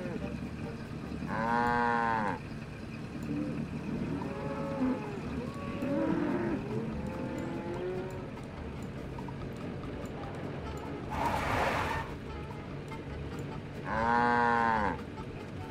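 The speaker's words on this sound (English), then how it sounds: "There's a cow in the middle of the road." A cow moos several times in the Nancy Drew: Secrets of the Old Clock video game, with drawn-out lowing calls set against a steady ambient background, the loudest near the start and the end.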